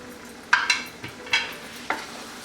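Vegetables for a veg jalfrezi sauteing in a pan over a low flame: a soft, steady sizzle broken by a handful of sharp spatula stirs and scrapes, close by, with no talking.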